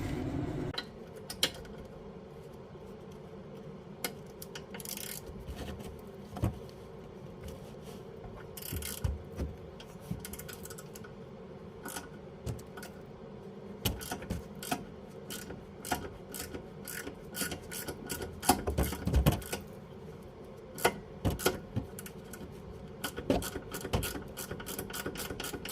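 Ratchet clicking in bursts while loosening a rear brake caliper bolt on a 2012 Toyota Camry, close and moderately loud, with scattered metallic taps and clanks in between.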